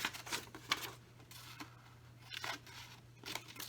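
Scissors snip paper pieces off a handmade envelope, a quick series of short, crisp cutting bursts close up, separated by brief pauses, with a faint steady hum underneath.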